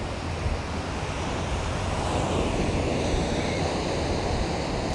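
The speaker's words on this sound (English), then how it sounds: "The sound of Ujjayi and the sound of the ocean waves in front of you" Ocean waves wash steadily onto a beach in a continuous broadband roar, with some wind noise on the microphone and no talking.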